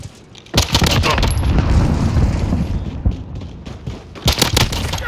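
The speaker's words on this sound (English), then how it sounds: "grenade!" A frag grenade detonates in Call of Duty: Modern Warfare team deathmatch, a loud close boom with rumbling debris amid gunfire, followed by another burst of shots near the end.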